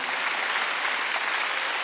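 Congregation clapping during a Korean Wednesday worship service at Jesus-Centered Church: a short, dense, even roar of many hands applauding together, fairly loud and unbroken, with no voices over it.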